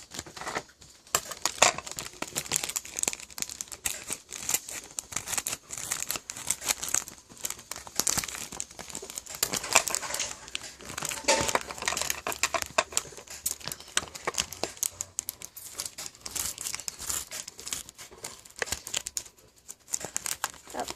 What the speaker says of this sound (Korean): 한번 가위로 뜯어볼게요.